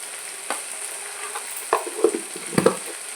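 Chili powder stirred into egg tomato curry in a pan, a soft low sizzle with a few scraping spoon strokes and light clinks, close by and without speech.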